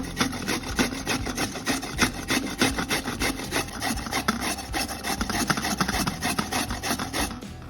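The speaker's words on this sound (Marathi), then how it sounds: "आता आपल्याला हे खोबरं छान किसून घ्यायचं आहे ओल्या नारळ असल्यामुळे सहज किसलं जातात" Fresh wet coconut is rasped on a hand grater in quick, rhythmic scraping strokes, steady and close for several seconds without any talking.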